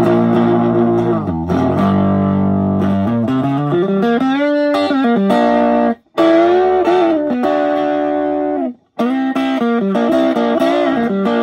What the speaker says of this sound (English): Ah, a nice tube distortion on that.